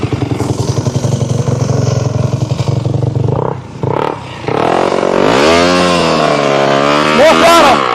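Motocross motorcycle at a training camp on a muddy track, engine revving hard with blips of throttle, rising and falling loudly close by, with people talking over the engine noise.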